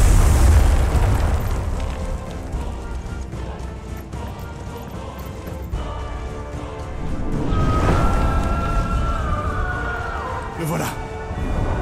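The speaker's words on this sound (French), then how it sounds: "Une explosion." Explosion in the video game Final Fantasy 16, a loud low boom near the start that rolls into a rumbling blast with a second swell of roar later, under game sound effects and music.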